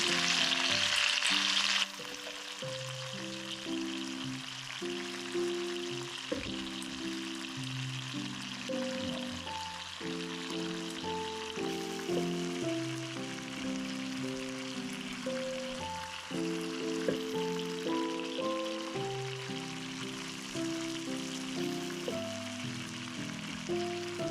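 Pork chunks and marinade for a Goan pork roast sizzle and crackle steadily in a frying pan, a close, continuous frying hiss with occasional stirring.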